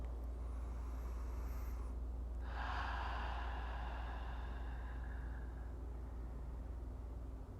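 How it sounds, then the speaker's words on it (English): Slow, steady breathing in and out through the nose during a yoga practice for focus, a soft continuous airy rush that swells into a longer inhale partway through, close and alone without speech. "just breathing in and out your nose, finding this slow ebb and flow"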